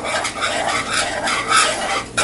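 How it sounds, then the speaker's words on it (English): A whisk scrapes and swishes rapidly through beer cheese sauce in a pot, a close, bright, continuous rasping with rhythmic surges. "we want to whisk that until the liquid thickens"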